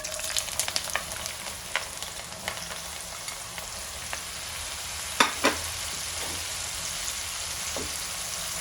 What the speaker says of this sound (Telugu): నూనె కాగింది, దీన్ని 2 టైమ్స్ మనం ఫ్రై చేసుకుందాం